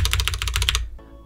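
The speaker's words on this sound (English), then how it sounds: "Reds are a linear switch, which means that pressing it is one smooth motion and sounds like this." Rapid keypresses on Cherry MX Red linear mechanical switches of a HyperX Origins 65 compact keyboard, about ten quick even clacks in under a second, close and clear, then a short quiet tail.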